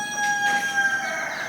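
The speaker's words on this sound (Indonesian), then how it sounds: "untuk menolong ayam yang terus berteriak-teriak minta tolong" A newly hatching chick peeps and cries out in shrill, repeated high calls, steady and close with no talking.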